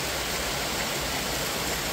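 An easily reached waterfall in New Hampshire gives off a steady, dense broadband rush, constant and fairly loud with no voices, like continuous falling water heard from nearby.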